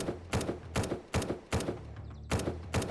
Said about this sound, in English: Getting shot by my own goddamn turrets the entirety of the time is very annoying.